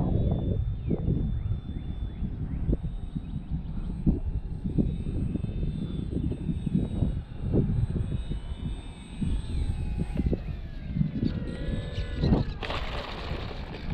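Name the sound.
Xfly Tasman RC model airplane flying to land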